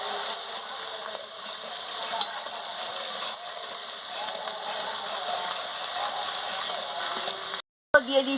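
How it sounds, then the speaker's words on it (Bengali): Spices, five-spice seeds and ginger paste sizzle in hot oil in a pan for a fish head chorchori, a steady close hiss and crackle throughout with a brief cut near the end. "মশলাটা ভালো করে ভেজে নিচ্ছি"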